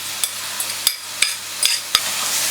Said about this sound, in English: mix it all thoroughly so that every single grain of meat actually gets coated with the spices